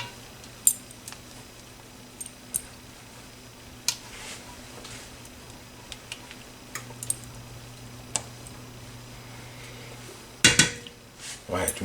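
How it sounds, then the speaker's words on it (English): A spoon scrapes and clinks against a pot while vanilla custard is stirred, sparse sharp taps over a quiet low hum, with one louder cluster of clatter near the end. "Stir that vanilla in."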